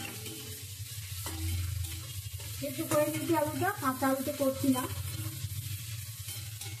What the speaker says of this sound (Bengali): আর এখানে আমার মশলাটা ভাজা হচ্ছে, দেখো।